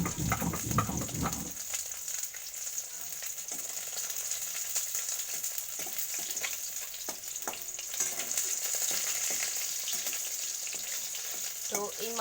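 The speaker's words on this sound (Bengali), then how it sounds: "আমি বাকি যে মাছগুলো রয়েছে সেগুলো একটু ভেজে নেব" Pieces of catla fish fry in a pan of hot oil with a steady, close hiss and crackle throughout, after a brief louder clatter at the start.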